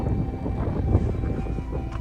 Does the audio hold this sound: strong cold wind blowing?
yes